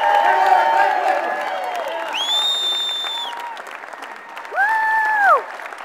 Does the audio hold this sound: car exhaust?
no